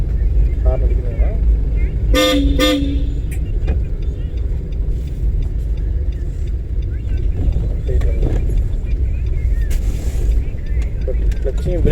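A car horn toots in a short double burst during a driving lesson, standing out over a low rumbling engine and road noise while people talk inside the car.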